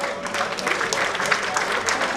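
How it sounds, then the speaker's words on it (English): Conference audience at an international galvanizing event applauding steadily, a dense wash of many hands clapping close and loud, with a voice faintly mixed in beneath. "give him a 100th round of applause."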